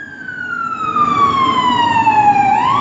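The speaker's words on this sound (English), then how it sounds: "And listen to the constant sirens around me right now." An emergency vehicle siren wails outside, one loud, near tone sweeping slowly downward before rising again at the end, over a low traffic rumble.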